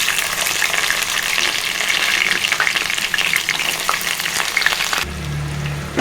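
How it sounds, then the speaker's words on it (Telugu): Onion pieces frying in peanut oil, a loud, continuous close sizzle with crackling and stirring, easing into a softer, lower hiss near the end, with no talk. "ఉల్లిగడ్డ ముక్కలు వేసుకున్నానండి ఎక్కువగా ఫ్రై చేయకూడదండి"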